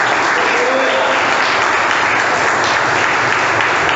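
A church congregation applauds during a Catholic sermon, a dense, loud, continuous wash of clapping that fills the whole moment without a break.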